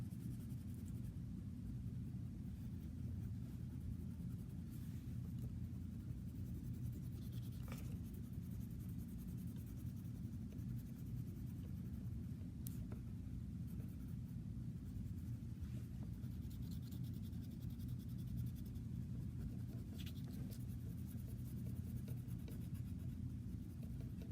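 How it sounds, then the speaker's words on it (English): Orange coloring is scribbled onto pumpkin drawings, a faint continuous scratchy rubbing of a coloring tool on paper over a low steady room rumble, with no talking. "I'm just going to go ahead and color these in"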